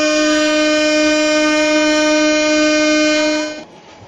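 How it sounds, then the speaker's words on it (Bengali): A train horn sounds in the Train Simulator Bangladesh video game, one loud sustained harmonic blast of about three and a half seconds that cuts off abruptly, with no voices. "আমি একটা হর্ন দিয়ে দিই,"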